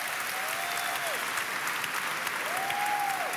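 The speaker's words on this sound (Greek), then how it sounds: "Οι οικοδεσπότες μας, λοιπόν, τους χειροκροτεί το κοινό." A large arena audience at the 2012 Eurovision Song Contest semifinal applauds the hosts with steady, dense clapping and crowd noise throughout, joined by rising electronic tones from the stage music.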